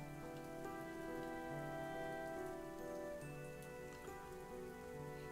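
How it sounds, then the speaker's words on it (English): In a video game, rain patters steadily on a small tent, a dense continuous rustle layered with soft tonal music-like hum, quiet and unbroken throughout. "listen to the patter of the rain against our little tent"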